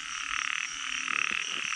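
A small frog croaks in a fast, continuous rattling pulse, close and clear, with the trill swelling in bursts over a steady buzzing background drone.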